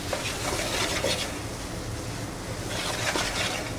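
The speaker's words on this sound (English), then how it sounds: "Give it a good stir." Ratatouille vegetables, zucchini and squash with their liquid, being stirred in a pot, giving a steady wet scraping and sloshing texture throughout with faint sizzle underneath and no voices.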